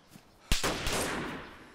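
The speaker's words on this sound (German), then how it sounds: "Hier kommen auf jeden Fall Schüsse rein." Gunshot in the survival video game DayZ: a sharp, loud crack followed by a second report and a long rolling echo that fades slowly, heard alone with no talk.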